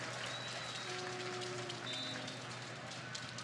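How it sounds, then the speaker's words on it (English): Home-crowd applause at ONEOK Field during a Tulsa Roughnecks soccer match, a steady patter of clapping heard at moderate distance, with a faint steady hum underneath. "Round of applause from the faithful here at One Oak as well."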